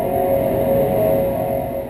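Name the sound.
2012 Fisker Karma electric car driving sounds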